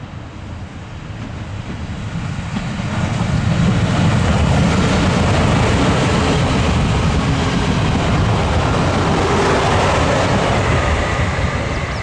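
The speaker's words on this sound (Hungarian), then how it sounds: "A SAMU közeledik ugyanazon a helyszínen, tehát Dunaharaszti alsó és Taksony között, ezúttal a 3746-os számú vonattal" A SAMU (M41) diesel train, number 3746, approaches on the old line 150 between Dunaharaszti alsó and Taksony, its roar building from a moderate rumble to a loud, sustained broadband rush as it draws near.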